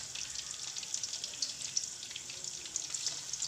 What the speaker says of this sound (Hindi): इसको सारे पीसेस को हम ऑयल में डाल देंगे और इनको फ्राई करेंगे